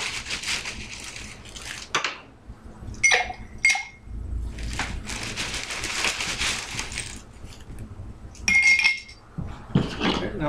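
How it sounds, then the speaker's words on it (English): Ice cubes go into a glass for a drink, making a crunching rattle and bright clinks against the glass in several bursts, close and fairly loud. "Give it some ice now."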